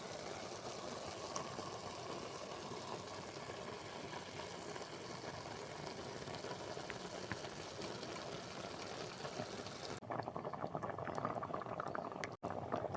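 Fish roe curry made with coconut, shallots, coriander, chili and turmeric powder bubbles hard in a pot, a dense continuous boiling gurgle that turns slightly crisper near the end.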